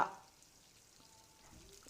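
Cumin and mustard seeds sizzling in hot tempering oil, a soft, steady crackling fry that is fairly faint and brief, with a couple of louder stirring sounds at the start and end.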